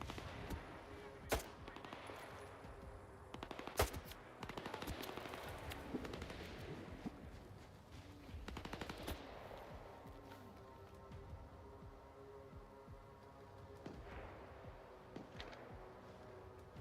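Gunfire in the video game Stalker 2 sounds as scattered sharp shots and short bursts, some loud and close, others fainter, spread over about seventeen seconds with quieter stretches and game ambience between.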